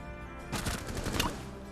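A quick burst of gunshots in Rainbow Six Siege, several sharp cracks packed into about three quarters of a second, loud and close over a faint background hum.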